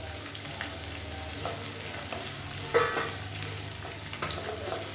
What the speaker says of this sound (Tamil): இப்போ இதை போட்டு நம்ம நல்லா வறுத்து எடுத்துக்கலாம்.